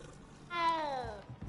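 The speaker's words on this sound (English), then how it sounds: "I hear cat." A single drawn-out cat meow in the video game Hogwarts Legacy, with a clear falling pitch, lasts about a second at moderate volume, followed by a faint click.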